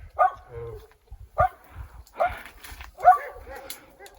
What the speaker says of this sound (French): Avec son petit chien.